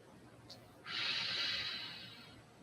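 A single deep breath during an exercise routine, a soft short sniff followed by a longer, steady airy exhale close to the microphone, faint and alone.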